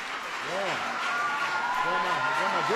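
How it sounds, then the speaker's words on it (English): Audience applause for the 2012 WNBA champion Indiana Fever at a White House welcome event: steady broadband clapping throughout, with voices speaking over it. "Everybody give the Indiana Fever a big round of applause."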